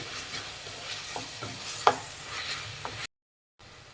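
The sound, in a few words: tomatoes frying until soft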